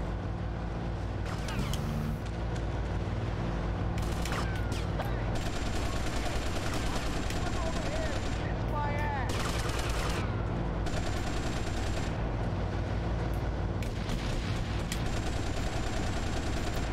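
Army tank cannon and gunfire in the game Grand Theft Auto: Liberty City Stories, loud repeated bursts of shots over a constant rumbling engine drone, fired in several separate volleys across the clip.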